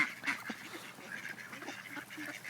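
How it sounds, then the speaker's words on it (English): Geese honking and calling in a loose, overlapping chorus, fairly quiet and steady, with no voices over it. "These are a rare bird. This is a goose."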